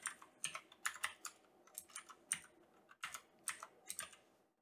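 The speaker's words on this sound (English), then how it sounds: "type or paste the name of the file" Quiet, close computer keyboard typing in uneven clusters of quick clicks, with a brief pause midway, while entering a file name into a Zigbee2MQTT configuration page.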